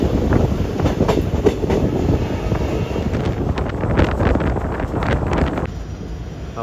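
Kanchenjunga Express passenger train (Sealdah to Agartala) running at speed, with a loud, continuous rumble, rattling wagons and wind buffeting from close by, and no voices.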